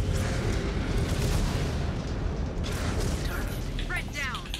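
Weapon fire in MechWarrior 5: Clans, a dense continuous barrage of heavy mechanical booms and rattling shots, loud throughout and closing with a few chirping electronic tones.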